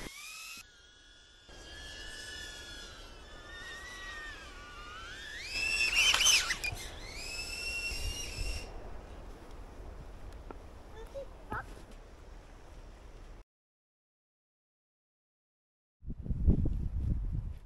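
A DJI Avata FPV drone fitted with new propellers whines overhead, its rising and falling tone shifting as it maneuvers, fairly close and loudest midway. The sound then cuts to silence before a short burst of other noise.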